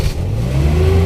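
Car engine revving while the brake is held, during a first driving lesson: a short, loud mid-pitched rev that rises steadily in pitch, close by with no talk.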